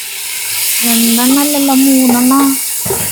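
Chopped tomatoes for chicken biryani fry in a pan with a steady low sizzle and hiss, while a sustained hummed voice-like tone sits over it for most of the moment before the sound briefly shifts.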